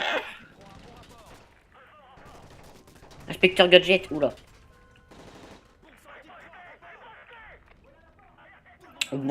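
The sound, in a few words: gunfire in video game Modern Warfare 3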